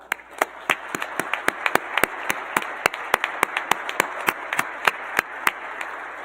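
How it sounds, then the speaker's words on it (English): An audience at a university biomedical engineering senior celebration claps for honors graduates, sharp separate handclaps rising from a scattered room at a steady, moderately quick pace with no speech over them. "can we offer a round of applause?"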